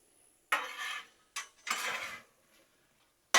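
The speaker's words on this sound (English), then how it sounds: "Let's mix these fries up a little bit more." Fries being stirred and flipped with metal spatulas on a Blackstone griddle: three or four short scraping, clattering strokes with quiet pauses between them, close and fairly soft.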